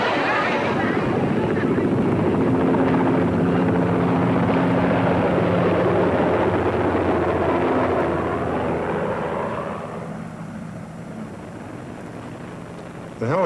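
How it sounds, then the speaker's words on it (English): Helicopters land on aircraft carriers, their rotor drone and engine whine filling the air, loud and steady, then easing somewhat toward the end, with wind rumble throughout. "The helicopters landed on the carriers, and there was no space."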